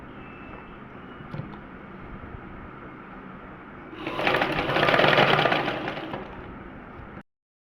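A sewing machine stitches the neck portion of pinafore fabric, first as a low steady hum, then rising into a louder whirring burst of fast stitching before it stops abruptly.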